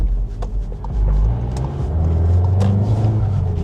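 A Volkswagen Golf 7 GTI accelerates with a deep, loud engine rumble that builds and swells, heard close from inside the car with a few small knocks and no talking.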